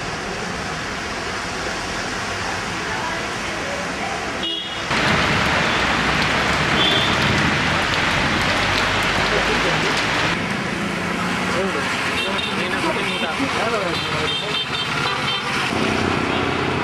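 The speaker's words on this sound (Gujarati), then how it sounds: "વલસાડ શહેરમાં ગાજવીજ સાથે ધોધમાર વરસાદ પડતા વરસાદી માહોલ જામ્યો હતો" Heavy downpour in Valsad city during a thunderstorm, a steady loud hiss of rain on streets and surfaces that swells sharply after a brief dip and continues throughout, with a passing vehicle.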